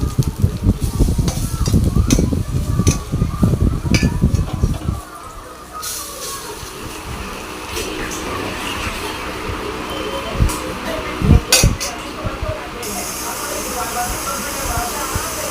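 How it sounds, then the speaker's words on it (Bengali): Boras, small fritters, deep-frying in hot oil until red, a steady sizzling hiss with bursts of nearby talk and kitchen clatter over it early on, then the frying continues more quietly. "বড়াগুলো লাল লাল করে ভেজে নিচ্ছি"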